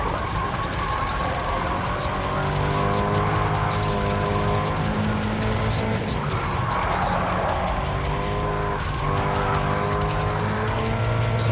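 In a racing video game, a race car drives hard around the track. Its engine drones and sweeps up and down in pitch through the gears, with faint tire scrub, steady and loud, and no talking.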